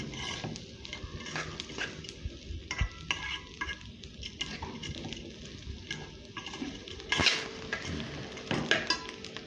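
Onion frying with oil and spices in a pan, a steady close sizzle with repeated scrape and clink of a spoon stirring against the metal pan, no talk.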